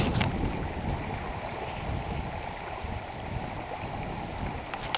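Rising flash flood water rushes in a steady, broadband roar, loud and continuous throughout without voices, with some wind buffeting the microphone.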